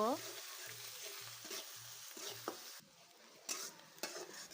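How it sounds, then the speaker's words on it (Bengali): Spices stirred into frying onions in a pan for a Bengali vegetable and fish curry, with steady sizzling under repeated scraping strokes of a spoon against the pan, close and fairly quiet. "এটাকে আমি পেঁয়াজের সঙ্গে ভালোভাবে নেড়ে চেড়ে মিক্স করে নিব"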